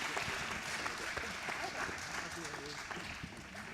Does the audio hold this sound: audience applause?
yes